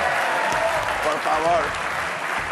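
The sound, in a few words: studio audience applause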